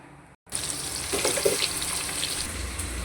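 Onions go into hot oil in a pan for a Tamil home-style dish and set off a sudden loud sizzle after a brief silence, a bright steady frying hiss with some crackle that carries on to the end.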